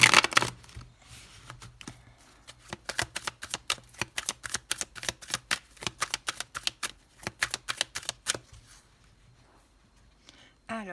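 Tarot cards being cut and shuffled by hand, a rapid run of crisp riffling snaps and flicks close up that slows and stops near the end, with no talk over it.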